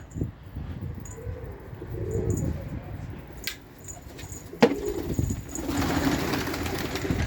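Pet pigeons coo softly and steadily on an evening in Istanbul, with a sharp click partway through and a low rumble of background noise.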